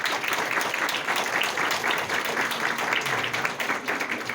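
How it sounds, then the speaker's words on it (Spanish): Audience at a dialogue forum applauds steadily throughout, a moderately loud continuous patter of many hands. "Entonces un aplauso también para ustedes."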